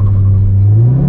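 A 9th gen Honda Civic Si revving for a launch, a loud, close, brief engine drone whose pitch climbs steadily over about a second.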